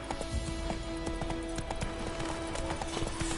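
Horse hooves clip-clop steadily in The Witcher 3, a continuous run of close, even hoofbeats over constant game ambience with faint tonal hum.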